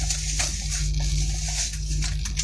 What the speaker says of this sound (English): Getting some rain now. Big drops splattering sideways.